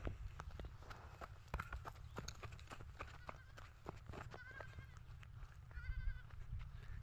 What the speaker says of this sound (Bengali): দেখুন ছাগলটা পালিয়ে গেল।